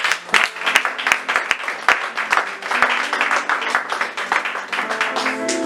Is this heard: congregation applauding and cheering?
yes